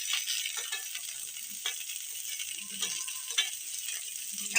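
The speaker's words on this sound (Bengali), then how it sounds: "এখন সবগুলো একসাথে খুব ভালোভাবে আমি ভেজে নেব।" Potatoes, chopped onion stalks and peas fry together in a pan, giving a steady hiss with scattered scraping clicks from stirring and no talk.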